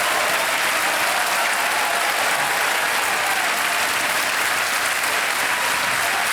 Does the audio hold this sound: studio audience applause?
yes